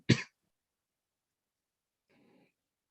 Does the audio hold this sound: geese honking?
no